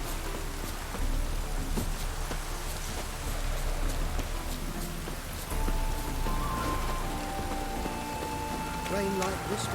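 Steady rain patters on a surface throughout in the video game The Witcher 3: Wild Hunt, with occasional splashy drops and faint tones, under intermittent speech.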